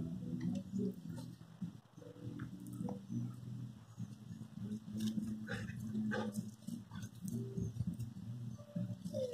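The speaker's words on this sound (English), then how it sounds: "They're happy and running around like crazy dogs." Puppies running around in mud and water, making quiet squelching, splashing and pattering sounds that go on throughout, with a faint yip or two and some distant background noise.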